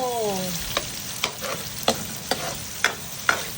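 Garlic and then onion sauté in a hot pan for ginisang munggo. A steady sizzle runs throughout, with about six sharp scraping stir strokes at a slow, even pace, close by with no talk.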